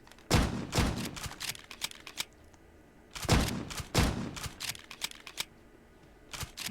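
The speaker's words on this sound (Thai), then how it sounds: "เป็นลูกซองแฝดสองนัด นะยิงสองนัดรีโหลดนะฮะ" Twin double-barrel shotgun in the MATR1X FIRE shooter game firing in paired blasts, two shots, then a reload pause and two more, followed by another shot, clicks of handling between, no talking.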